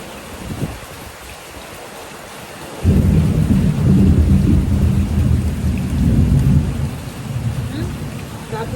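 Heavy rain pours down steadily with thunder rumbling, the downpour suddenly swelling louder partway through and staying dense and close.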